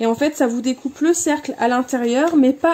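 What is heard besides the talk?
None of the usual background noises is heard.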